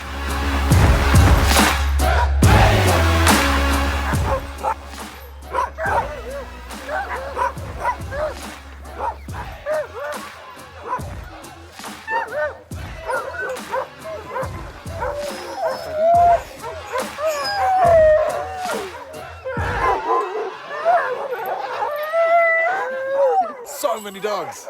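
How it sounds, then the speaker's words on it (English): Sled dogs at a kennel of about 80 dogs in cold Yellowknife bark, yip, howl and whimper in a loud, overlapping chorus, with bursts close by and others farther off, while people talk over them. "There are 80 dogs here."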